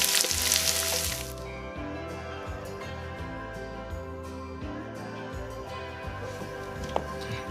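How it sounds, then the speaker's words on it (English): Chopped onion hits a pan of browned garlic with a loud initial sizzle that settles into steady frying, with light stirring and clinks over a constant low hum. "Now we're gonna add the chopped onions."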